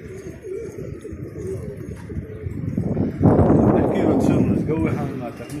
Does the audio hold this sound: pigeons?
yes